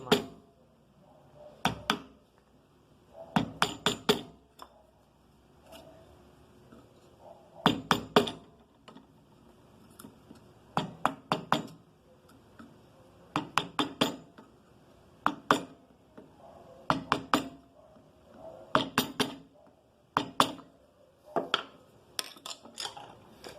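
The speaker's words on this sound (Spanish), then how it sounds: "Así que vamos a hacerle con una plana para darle" A flat chisel carves wood against the grain, striking in sharp, clustered taps and knocks with quiet pauses between bursts. Each group is close and crisp.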